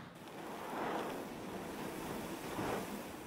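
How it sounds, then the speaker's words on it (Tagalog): Strong surf crashing on a shore in Batangas during a storm, a steady roar of breaking waves and wind with two swelling surges, no voices. "Malakas din ang hampas ng alon sa dalampasigan"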